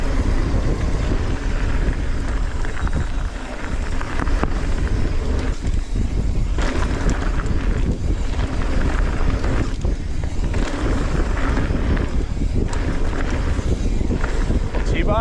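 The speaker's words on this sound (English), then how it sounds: "It's windy." Strong wind buffets the microphone on a wooded flow trail at Trexler Nature Preserve, giving a continuous loud rumbling roar with gusty surges and no clear voices over it.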